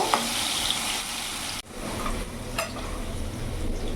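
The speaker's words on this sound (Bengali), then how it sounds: "আলুগুলো ভেজে আমি লাল লাল করে ভেজে নেব।" Potatoes fry in hot oil with a constant close sizzle. A sharp break midway is followed by renewed crackling and occasional stirring, with no one speaking.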